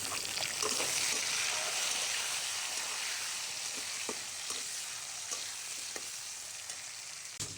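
Potatoes fry with browned garlic and lentil-spice tempering in a pan for a spinach dish, making a steady close sizzle broken by occasional clicks of a stirring spoon.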